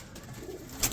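Abi breed pigeon, a Kazi Raffan Chandpur line, gives a brief soft coo amid low background rumble, with a short brighter burst near the end.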